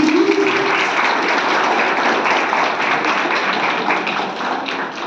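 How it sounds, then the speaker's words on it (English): A large audience at a startup challenge presentation event claps for the teams, a dense burst of loud, close applause that holds steady before tapering slightly. "Let's have a huge round of applause for teams 1, 2 and 3 from section B."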